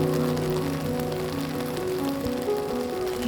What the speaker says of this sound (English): And the pitter-patter of our umbrella.